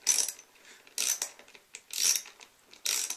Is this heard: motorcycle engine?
no